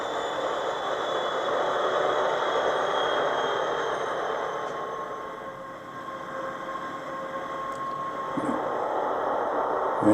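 A model railway locomotive's sound decoder plays a diesel engine winding down toward idle: a steady droning rumble with a faint tonal whine that eases off and then settles, fairly close, with a small click near the end.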